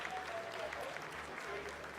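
Applause from a mission control room during a lunar landing descent, a steady wash of many hands clapping at once, moderately distant and fairly quiet, running continuously without pauses.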